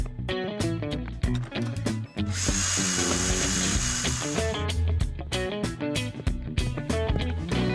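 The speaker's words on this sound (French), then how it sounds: "je sais comment bien percer un trou dans un mur maintenant, Bob" A cartoon power drill bores a hole into a wall amid a busy, bouncy musical score, the drill's steady buzzing whine rising in the middle for about two seconds before the music carries on alone.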